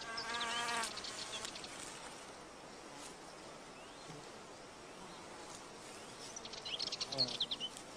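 Male wasp buzzing around an orchid while trying to mate, a soft insect drone with louder close passes at the start and near the end, set against quiet outdoor ambience.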